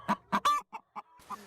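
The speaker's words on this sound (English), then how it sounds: "Burmese chickens strutting through the town of Fitzgerald in south central Georgia" Chickens cluck in a short run of close, clipped calls, five or six distinct clucks in quick succession in the town of Fitzgerald, Georgia.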